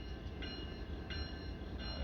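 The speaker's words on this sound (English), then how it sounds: "I believe this is a unit train of grain coming in, heading west right now." A westbound unit grain train rolls into Hobson Yard in Lincoln, Nebraska, giving a steady low rumble of rail cars with faint, recurring high metallic tones above it, heard at a distance with no talking.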